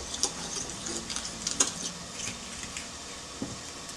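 A utensil stirs eggs, cream, grated gruyère and garlic in a bowl for a tart, giving soft scraping swishes with a few light clinks against the side, quiet and close.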